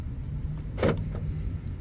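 A Dodge Jeep Chrysler Ram vehicle locks its doors through keyless entry with a single quick, muffled thunk of the lock actuators over a low idle-like hum.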